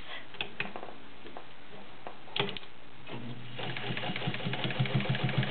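A vintage Fleetwood Model 690 zigzag sewing machine with a size 16 needle stitching two layers of upholstery or garment leather, a steady mechanical whir and rapid ticking clatter that starts and stops, then speeds up near the end.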